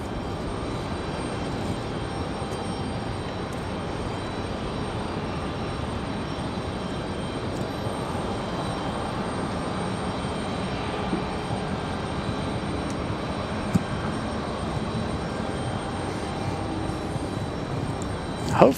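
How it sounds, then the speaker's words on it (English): An Air France Boeing 787-9 Dreamliner jet at Raleigh-Durham airport gives off a steady, broad engine roar, moderately distant and unchanging throughout. "All right, Air France back to Paris. The Dreamliner 787-9."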